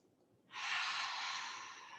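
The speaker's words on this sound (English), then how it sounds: "Big breath here." A single deep, airy breath drawn in a yoga flow while holding Malasana, the yogi squat; it starts after a moment of quiet and carries on as a steady, close rush that slowly fades.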